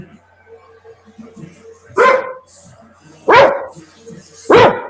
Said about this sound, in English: I'm gonna go let this dog out before she breaks your guys' eardrum